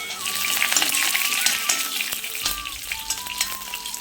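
Small onions and cut chilli with curry leaves sizzle steadily in hot oil in a pan for a Kerala curry, a bright continuous frying hiss with occasional stirring clinks close by.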